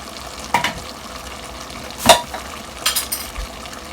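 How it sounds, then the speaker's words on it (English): A spoon stirs a pot of stovetop chili, three short scraping stirs spaced apart over a faint low simmer, close and fairly loud. "a little bit of stirring."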